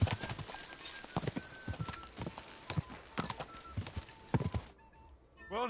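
Horse hooves in the video game Kingdom Come Deliverance 2, a close, steady clip-clop of a trotting horse with a brief whinny, fading out near the end, with a voice speaking briefly.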